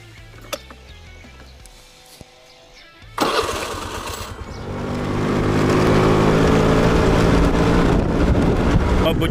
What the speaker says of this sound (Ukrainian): наш скутер, який заводиться як бритва.